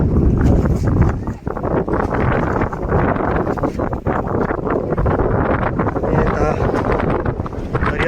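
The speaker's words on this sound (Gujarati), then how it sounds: "ખૂબ સરસ પવન બહુ જોરદાર આવતો છે" Strong, gusty wind roars and buffets the microphone without a break on Parnera hilltop in Valsad, a dense low rumble that swells and dips across the whole stretch.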